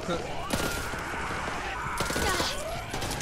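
Rapid submachine gun fire in a video game, dense bursts of shots layered under excited, overlapping voices and laughter, loud and close throughout.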